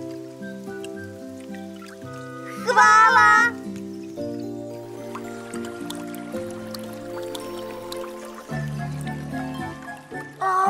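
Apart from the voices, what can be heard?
water dripping in a cartoon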